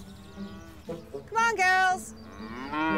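Dairy cows being moved from a sheep pasture toward the milking parlour let out several loud, drawn-out moos, nearby and rising in strength, while a person calls to them.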